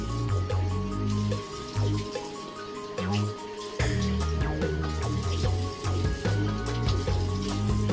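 Water runs and splashes steadily as a razor gets a quick rinse after a wet shave, the flow briefly broken twice by clinks and drips, close up.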